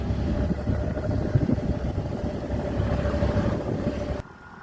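Steady engine drone and rushing wind come from a motorbike ridden along a green hill road toward Ziro in Arunachal Pradesh, running continuously until cutting off abruptly at the end, with no talk.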